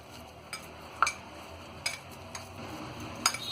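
Chicken kebab stuffing for stuffed tangdi drumsticks being mixed in a bowl, with a few faint, scattered spoon clinks and scrapes against the dish and no talking.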